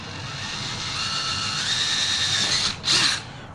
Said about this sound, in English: I've got to use a drill bit to get past this little metal corner pieces right here